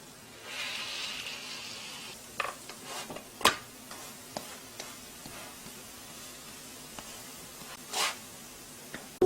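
Glutinous rice mugwort pancakes fry in a pan with a soft, quiet sizzle, broken by occasional light clicks and scrapes from cooking utensils, with no talk.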